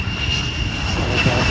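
A 2 OCU F-35 jet rolling out after landing at an air show, a loud sustained engine roar with a steady high whine running throughout, close and continuous with no talking.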